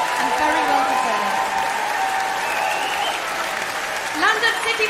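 A standing ovation after a carol concert: a dense crowd applauding steadily and loudly, with a voice speaking over the clapping.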